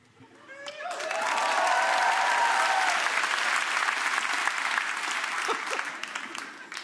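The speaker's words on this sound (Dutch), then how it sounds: "Ik krijg een applaus omdat ik mijn gitaar rond mijn nek kan." A stand-up comedy audience breaks into applause, swelling quickly to a full, steady roar of clapping with a few cheers, then slowly thinning toward the end.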